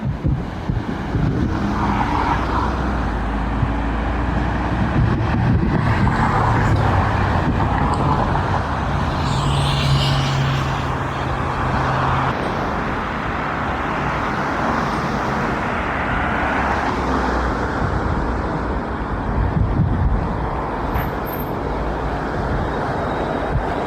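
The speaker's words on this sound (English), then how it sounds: "Now we need to cross over another road. I think it's an A road, not too sure. It's only 4 lanes" Traffic on a four-lane A road in London, a continuous loud wash of passing cars and road noise with wind buffeting the microphone throughout.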